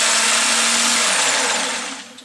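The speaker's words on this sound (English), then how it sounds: "I'm just going to give this an extra quick whiz just to stir it basically." An electric blender gives a brief high whirring whiz while stirring pancake batter, loud and close, then spins down and fades out.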